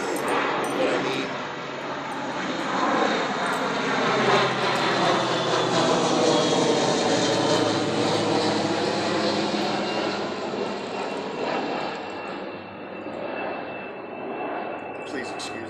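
Loud jet airplane roaring low overhead near an airport, swelling and sweeping for many seconds before slowly fading, with a person speaking under the engine noise.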